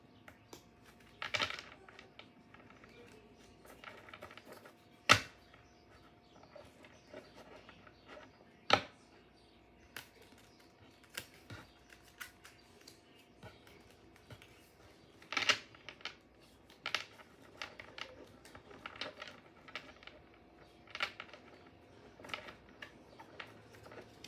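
Soft, intermittent papery clicks and riffles of a mini tarot deck being shuffled, close and quiet, with occasional sharper snaps against a hushed background.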